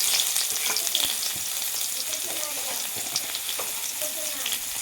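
Bay leaves, a dried red chili and a little chopped onion sizzle in hot salted oil in a home pan, a loud continuous crackle with sharp pops and occasional stirring clicks.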